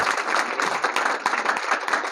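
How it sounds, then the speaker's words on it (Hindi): Brief burst of enthusiastic audience clapping, a dense crowd of hands applauding steadily for about two seconds. "ताली ठोको एक बार जोरदार तालियां"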